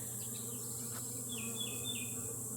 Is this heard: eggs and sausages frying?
no